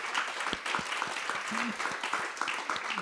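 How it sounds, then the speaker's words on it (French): An audience at a panel discussion on generative AI applauds the speakers, a steady, somewhat distant patter of many hands clapping with no break in the sound. "on peut peut-être applaudir ces messieurs dames."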